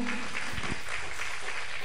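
A church congregation at a Portuguese-language worship service applauds, a soft, steady wash of many hands clapping together in the room, heard somewhat distant.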